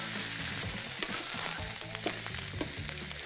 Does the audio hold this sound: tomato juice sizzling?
yes